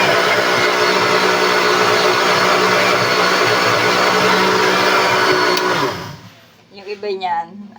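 A blender whirs loudly and steadily while blending cucumber and carrot into juice, then switches off and winds down, after which a person starts speaking.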